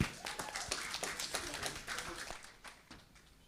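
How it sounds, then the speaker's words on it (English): Scattered clapping from an audience at an expo summit, a quick run of sharp claps that gradually thins and fades. "Please give him a round of applause."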